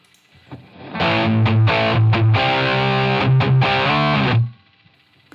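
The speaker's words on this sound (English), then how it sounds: "Here's the sound of this tone without reverb." Electric guitar played through a Line 6 Helix with no reverb, a loud distorted tone with chords ringing for about three and a half seconds before cutting off dry and abruptly.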